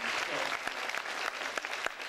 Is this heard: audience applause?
yes